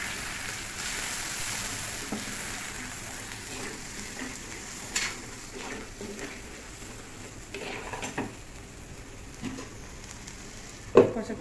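Homemade spice masala fries in oil in a pan for a fish and taro curry, a quiet continuous sizzle broken by occasional spoon taps and scrapes, one louder clank near the end.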